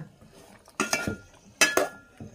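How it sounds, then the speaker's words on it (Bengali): A utensil clatters and clinks against a metal pot of curry on an electric heater stove, with two short bursts of scraping and knocking over a quiet background. "এই যে রান্না করতেছি, তরকারি গরম হচ্ছে।"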